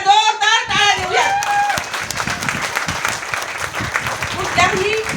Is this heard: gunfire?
no